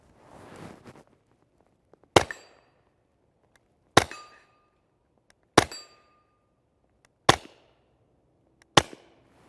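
Five evenly spaced suppressed shots from a 5.7 Mark II pistol firing Fiocchi 62gr FMJ 5.7x28mm rounds, each a sharp crack with a metallic ring about every one and a half seconds, preceded by a soft rustle.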